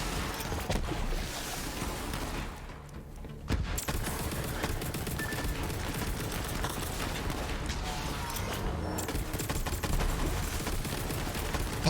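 Dense, sustained gunfire from a Borderlands shootout, with rapid bursts running nearly continuously at close range and a brief lull partway through.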